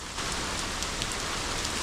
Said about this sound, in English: I need to show you guys how hard it's raining right now.